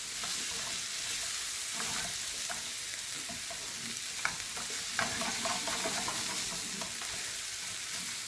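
A spoon stirs tomato paste into onions and peppers sizzling in a pan for ratatouille, with a continuous fry hiss and soft scraping strokes, plus a couple of sharper knocks near the middle.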